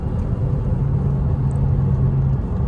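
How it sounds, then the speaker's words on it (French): Porsche Boxster flat-six pulls hard in third gear, a loud, steady low rumble with a rising droning tone heard from inside the car, no talking. "on va laisser chanter le flat 6"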